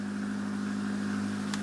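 Irrigation borehole pump motor humming, a low, steady, faint drone that stays constant throughout, with a brief click near the end.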